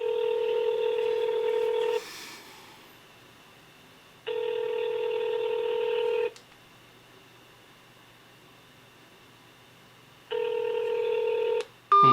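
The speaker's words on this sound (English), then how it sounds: "It's ringing at least." Phone ringback tone on a call to a tech support hotline, steady tone bursts with long silent gaps between them, clear and alone, ending in a short click.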